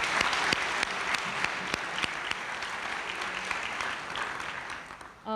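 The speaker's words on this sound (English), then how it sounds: "so a round of applause to them" Steady round of applause from an audience at a high school senior recognition ceremony honoring students, dense clapping throughout that tapers off and ends abruptly.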